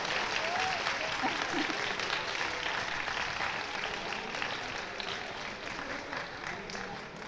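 Audience clapping for a speech contest winner, a continuous wash of applause from a moderately distant crowd that tapers slightly toward the end.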